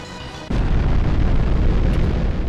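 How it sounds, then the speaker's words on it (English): A sudden loud explosion in the SNES game Sparkster bursts in and roars on as a heavy, sustained rumble with deep low-end boom. "Nice big explosion, and that's going to be the end of this level."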